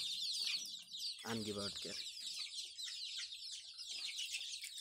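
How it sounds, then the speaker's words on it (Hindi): Local chickens on a farm in Lakhimpur, Assam, give a short close cluck amid a constant high chorus of insects, while a person speaks briefly. "आमार मुर्गीखिनि खुबै धुनिया बहुते धुनिया"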